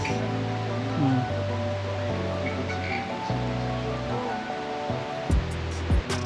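Steady rain hiss at a ranch in Libona, Bukidnon, mixed with low tonal music or hum, constant and moderately loud, with a few brief thumps near the end.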